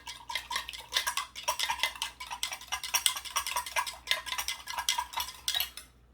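A spoon stirs sugar water for feeding a beehive, giving a steady run of rhythmic clinks and scrapes against the container, close and moderately loud with no talk.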